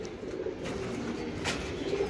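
Female racing pigeon cooing softly and steadily at a loft, a low continuous coo running throughout with faint background hiss.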